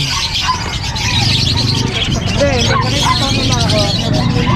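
Caged birds at an outdoor animal market in Bocaue, Bulacan, chirp and coo steadily in the background while someone talks over them close up.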